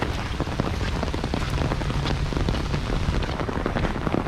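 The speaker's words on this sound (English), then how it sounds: "Here the rain is not as heavy because the trees are" Rain patters steadily beneath a tree canopy during the remnants of a tropical storm, a dense even hiss broken by scattered louder drops striking nearby surfaces, with no voices.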